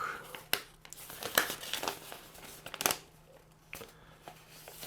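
Close rustling and crinkling of a large paper instruction sheet, unfolded and handled in a series of sharp crackles and softer shuffles with brief pauses between.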